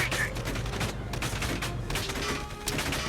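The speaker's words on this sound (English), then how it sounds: "That is some loud gunfire, my goodness." Heavy gunfire from the video game Valkyria Chronicles 4 crackles in dense, continuous bursts. It is loud and busy, with a hint of a voice underneath.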